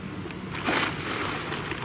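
A constant high-pitched buzz of bees inside an abandoned airplane, droning steadily throughout with no talking.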